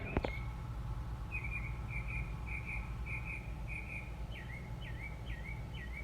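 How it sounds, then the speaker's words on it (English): A lone bird repeats a clear, whistled chirp in a steady series, then shifts to a rising call, over a quiet hum of night insects. "It is a bird chirping and singing like it's 6 o'clock in the morning"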